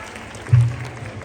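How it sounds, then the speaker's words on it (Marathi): Audience clapping at a Home Minister Paithani game show in Rahuri, Maharashtra: a short burst of applause rising briefly over a dull low thump, then settling into faint scattered claps. "जोरात टाळ्या वाजवा"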